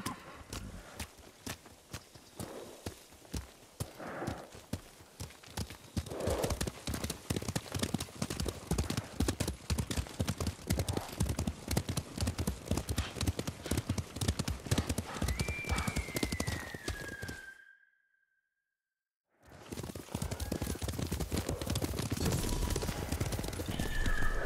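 Several horses gallop in the samurai-era open world of Ghost of Tsushima: a steady, loud stream of clip-clopping hooves with a neigh and whinny rising over the pounding, then a brief silence before the galloping resumes.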